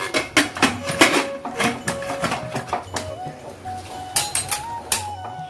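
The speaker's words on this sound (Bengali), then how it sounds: "এই প্রেসার কুকারে ঢাকনা দিয়ে দিলাম" A metal lid set onto a pressure cooker while making vegetarian khichdi: a run of sharp clinks and clattering knocks, close and uneven, with quieter handling noise between them.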